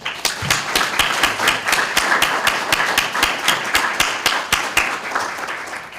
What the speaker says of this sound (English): So one final round of applause to you